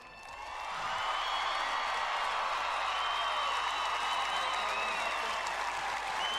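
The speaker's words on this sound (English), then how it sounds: "give them a round of applause." Crowd applause at a state championship football game, Wheelersburg versus Eastwood: clapping swells within the first second into steady, loud, dense applause with scattered cheers and whoops, holding to the end.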